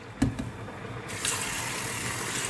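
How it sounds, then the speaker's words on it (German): Water poured by hand over lentils being rinsed in a bowl: a brief splash, then a steady rushing pour of water that keeps going, close and alone with no talk. "immer so Wasser nehmen und mit Hand und Wasser schütten und nochmal Wasser nehmen"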